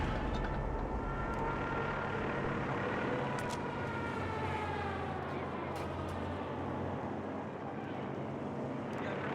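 Planes roar overhead during a Company of Heroes 3 battle, a broad, steady engine drone sustained across the whole stretch with faint higher tones sweeping through it.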